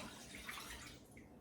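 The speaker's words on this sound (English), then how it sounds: "we're going to start off with putting our 2 cups of chicken broth in" Two cups of chicken broth are poured into a cooking pot as a steady, close, splashing liquid stream that runs without a break for about a second and a half and then eases off.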